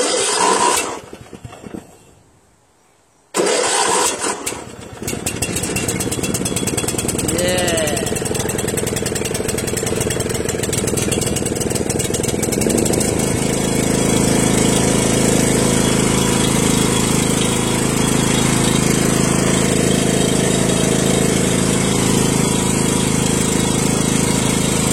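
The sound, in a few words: motorcycle engine cold start and idling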